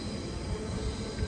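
A Sydney train pulls into a platform at Central Station, a steady, fairly quiet rumble of wheels and carriages with no voices.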